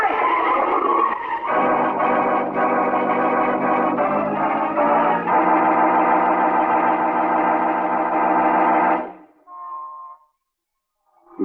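A car races past in fog in an old radio drama effect, its engine a loud, distorted sustained roar with screeching tire skids that carries for about nine seconds, then cuts off abruptly to a few faint tones and silence.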